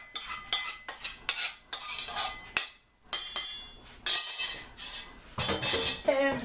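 A utensil clanks and scrapes against a bowl while flax muffin batter is mixed, giving loud, irregular bursts of metallic clatter and stirring with brief pauses and no talking.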